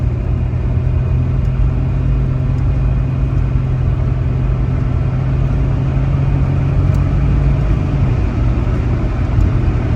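A 1988 Ford Ranger engine runs loud and close in steady driving drone, its pitch holding mostly level with a slight change near the end around a gear shift, no talking over it.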